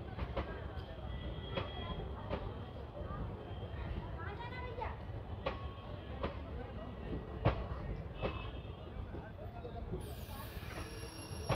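A train at Puranpur station in India, bound for Mailani Junction, gives a steady low rumble with a run of irregular metallic clicks and clanks, and a brighter hiss near the end.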